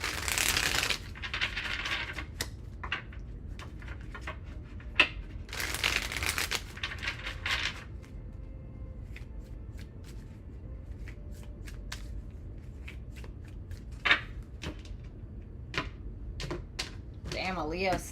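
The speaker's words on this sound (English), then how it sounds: "2 more shuffles." Tarot cards being shuffled in several crisp riffling bursts, close up, with quiet talk and light tapping in between.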